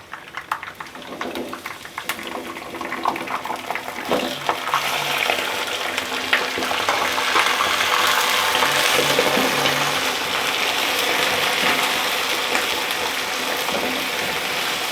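Chicken hits the hot pot for chicken biryani, setting off a loud, continuous hiss and sizzle that swells and holds steady, with scattered clinks of a utensil near the start.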